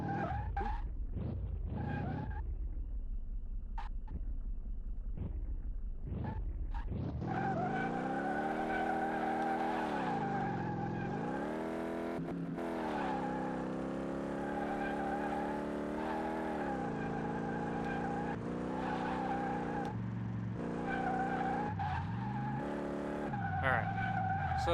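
Tires skid and squeal continuously as a car spins donuts in a restored old Fastback in Car Mechanic Simulator, loud and close, with engine revving underneath after a few brief opening bursts.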